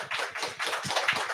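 Audience clapping for student panelists at a construction talent event, a fairly close, uneven patter of hands in irregular bursts, moderately loud and without talk.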